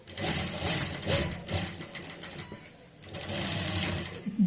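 A sewing machine stitches a buckram belt onto a readymade saree in steady, loud mechanical runs with a short pause in the middle before stitching resumes.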